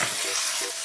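Stuffed pepper filling sizzles steadily in a frying pan, with two soft scraping strokes of stirring through the loud, even hiss of frying.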